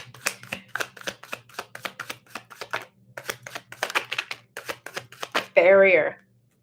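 Tarot cards are shuffled repeatedly in quick rhythmic riffles, close and crisp, with a voice speaking briefly at the end.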